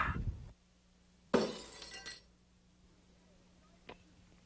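A glass bottle is shot and shatters in the Mad Dog McCree shooting game, giving one sharp, loud breaking burst with a tinkling tail and then a small clink afterward.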